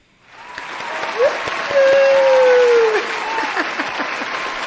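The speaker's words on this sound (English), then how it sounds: "I want everyone to give a big round of applause for today's guest" Applause rises quickly and holds steady, a crowd clapping over a soft sustained tone.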